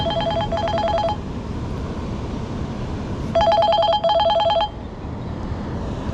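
A mobile phone rings outdoors while fishing at a quarry on the Syr Darya, sounding two bursts of a repeating electronic ringtone over steady background noise.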